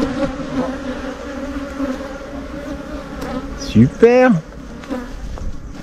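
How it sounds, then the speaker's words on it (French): Honeybees buzz in a dense, steady drone around an open hive in an apiary, close and continuous, while a voice speaks briefly over the swarm. "ça vous habitue à des abeilles qui ont leur petit caractère"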